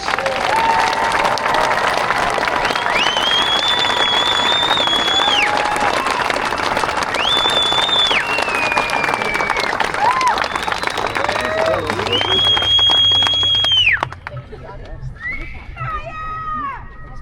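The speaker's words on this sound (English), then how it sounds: "Let's give him another big round of applause." A graduation audience at a 2025 academy ceremony gives a long, loud round of sustained applause with cheering and whoops over it, then the clapping thins and fades toward the end.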